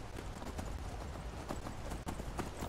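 Horse hooves clip-clop steadily at a walking gait in the Skyrim Special Edition video game, fairly quiet against a constant wash of ambient background noise, with no talk.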